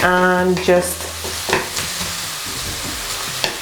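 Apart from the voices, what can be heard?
onions caramelizing and being stirred in a pan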